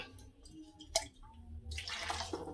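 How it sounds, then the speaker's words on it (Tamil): Soaked tamarind and tomato water is poured into a pot of rasam with a soft, quiet splash and trickle that grows steadier toward the end, preceded by faint drips and a light clink. "இந்த கரைச்சிருக்க புளி தக்காளி ரெண்டும் எடுத்து ஊற்றுறது."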